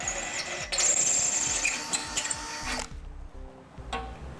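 Power drill boring a 1/4 inch hole into a 2010 Honda CR-V bumper structure, a bright whirring burst that runs for a few seconds and then cuts off, followed by faint handling clatter.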